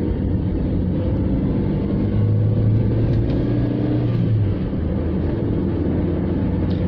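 Toyota Starlet engine idling steadily after a service, a continuous low rumble with a brief rise in pitch midway as if lightly revved, close and alone with no talk.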